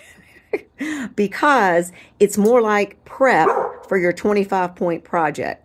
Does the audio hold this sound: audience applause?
no